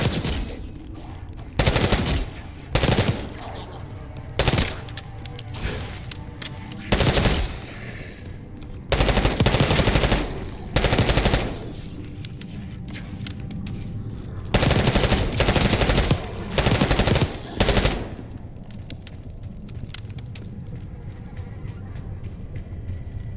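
Automatic gunfire in the video game Black Ops 6, coming from lower floors of a facility: repeated loud bursts of rapid shots separated by short pauses, with a murky ambient background between volleys.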